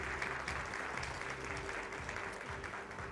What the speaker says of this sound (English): Please give a big round of applause with his delegation.